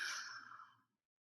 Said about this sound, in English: a really nice deep inhale, and then exhale.